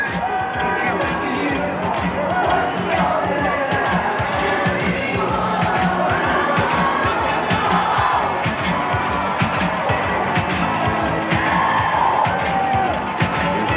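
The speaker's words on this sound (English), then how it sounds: "The crowd is growing bigger by the second." A huge outdoor crowd at the 1991 Chicago Bulls NBA championship celebration in Grant Park, Chicago, roars continuously with whoops, yells and cheers, dense and loud throughout with voices blending into the din.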